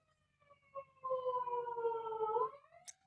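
An emergency siren wails past a house in rising and falling tones, swelling loudly in the middle before fading off, with a short high chirp at the end.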